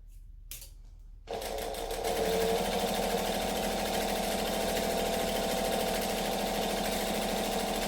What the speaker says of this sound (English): I'm stitching 1/8 of an inch from the edge of the glitter vinyl